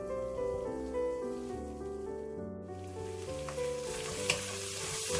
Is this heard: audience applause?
no